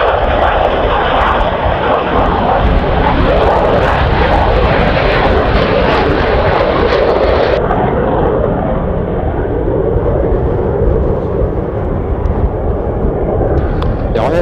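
A loud, sustained jet aircraft roar from a J 34 Hawker Hunter, broad and rushing, staying strong throughout with a slight shift in tone partway through.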